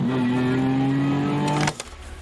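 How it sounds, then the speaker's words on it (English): The RML Short Wheelbase car's bespoke exhaust gives a loud, steady droning note that holds for over a second and a half, then cuts off abruptly into quieter residual noise. "we've specifically engineered the noise we want for the bespoke exhaust system"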